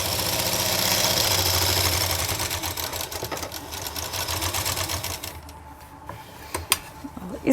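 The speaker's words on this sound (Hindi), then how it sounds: "अब यहाँ से अपने प्लाजो पैंट के दोनों आसन को हम स्टिच करेंगे, 1/2 इंच का मार्जिन छोड़ते हुए।" A sewing machine stitches the seams of palazzo pants with a fast, continuous needle chatter up close, slowing and stopping near the end amid a few clicks and fabric handling.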